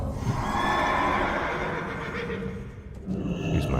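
A horse mount in World of Warcraft neighs and whinnies through a dense, steady wash of game ambience, the call close and loud with faint hoof clatter mixed in.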